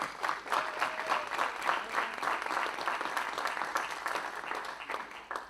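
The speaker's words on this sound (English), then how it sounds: "would give them a quick round of applause" Steady, moderately quiet applause from a symposium audience, dense clapping sustained at an even level before gradually tapering near the end.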